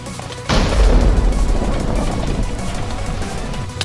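A massive Wither explosion in Minecraft, a sudden loud boom that erupts and then rolls on as a long, dense rumble with crackling debris filling the rest of the moment.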